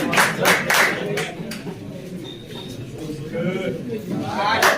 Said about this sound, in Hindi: मिस्टर जहांगीर मीर साहब के लिए जबरदस्त तालियां